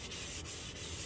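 Hand sanding of BMW E31 wing paint with 1000 grit sandpaper gives a steady, close scratchy rasp with quick regular back-and-forth strokes, no voices.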